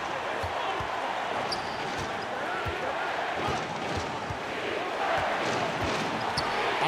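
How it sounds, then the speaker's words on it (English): Roaring crowd in the NBA 2K21 basketball video game cheers loudly and continuously, with repeated ball bounces thumping in a steady dribble rhythm beneath, and commentary voices blended in. "Gotta love hearing a crowd get this fired up"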